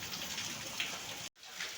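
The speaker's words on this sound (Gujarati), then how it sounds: "આજે આખી રાત દીનો વરસાદ ચાલુ ને ચાલુ છે" Heavy, continuous rain hisses steadily nearby, cut off by a brief gap of silence before the downpour resumes.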